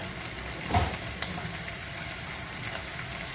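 Whole cumin seeds dropped into hot oil alongside a bay leaf crackle into a short burst of close sizzling that settles into a steady, soft fry.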